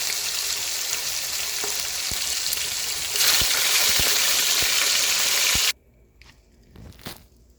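Chicken pieces for brown stew chicken fry loudly in a pan: a dense, close sizzling hiss with scattered crackling pops that grows louder midway, then cuts out abruptly, leaving faint clinks and quiet movement.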